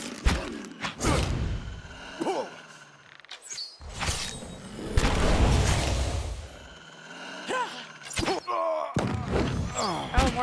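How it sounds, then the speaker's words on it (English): Booming explosions and heavy thuds from the video game Pillars of Eternity burst repeatedly amid whooshes and clatter, loud and chaotic, with scattered voices underneath. "Oh, more explosions."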